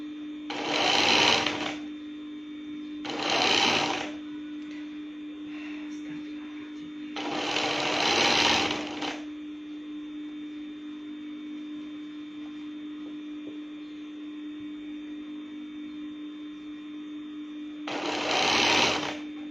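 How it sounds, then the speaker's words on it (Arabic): A sewing machine stitching crepe fabric for an abaya, four separate whirring runs of stitching, each a few seconds long, close and clear over a constant electrical hum, with quiet pauses between. "اذا نجي ديريكتومون بعد ما فيكسيت في الميليو ونبدا نخيط عادي جدا"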